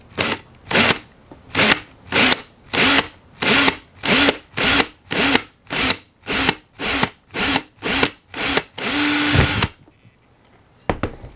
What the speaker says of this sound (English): So we're going to drill this one.